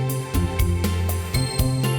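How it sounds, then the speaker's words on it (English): A Suzuki Q-chord electronic instrument plays a bright, buzzy chord pattern with rhythmic percussive accents about every quarter second over a steady bass, loud and close. "serious song for Q chord, which is a really silly instrument"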